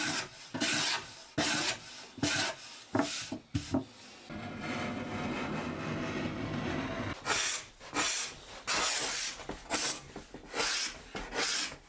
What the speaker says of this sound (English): I sanded everything at 240 grit